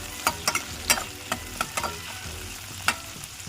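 Tomatoes frying in a pan while being stirred, soft sizzling with a handful of sharp spoon scrapes and clicks against the pan, fairly quiet and close.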